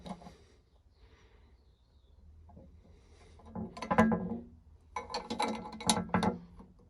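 A spanner turning and tightening the rope clamp on a narrowboat multi-fuel stove door, giving a few close metallic ratcheting clicks and scrapes in two short bursts after a quiet start.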